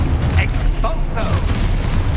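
Expulso blast spell firing in Hogwarts Legacy gameplay: a booming magical burst over dense, loud game noise and a low rumble, with spell-casting voices nearby.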